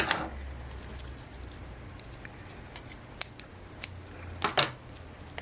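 Scissors snip thread off a freshly wound bobbin at an industrial Juki DDL-8700 sewing machine, making a few sharp, close, quiet clicks and snips over a low background hum.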